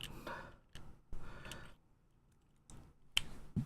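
Irregular tactile keystrokes on a Neo Ergo keyboard fitted with Bad Seed tactile switches, a few scattered, fairly quiet clicks with pauses between them and faint background noise.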